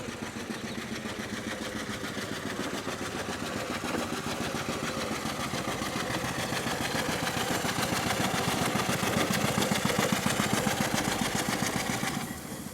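A large model showman's steam traction engine runs steadily and close by in a higher gear, a rapid chugging rhythm that grows slightly louder before easing off at the end.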